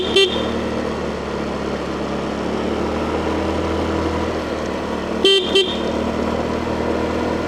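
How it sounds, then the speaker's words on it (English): A vehicle horn gives a short toot at the start on a busy street in Chiang Mai, then two quick honks near the end, over steady traffic and engine rumble. "Gotta remember to honk."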